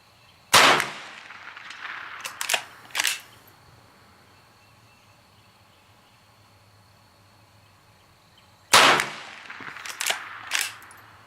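Henry lever-action rifle fired at an outdoor shooting range: two sharp, loud shots roughly eight seconds apart, each followed by a few quick clacks of the lever action and spent-case handling, with quiet between.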